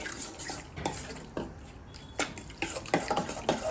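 A whole egg is stirred into prawn batter with a spoon, giving repeated light clinks and scrapes against a bowl in an uneven rhythm, close and moderately loud.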